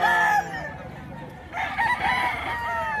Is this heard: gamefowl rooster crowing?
yes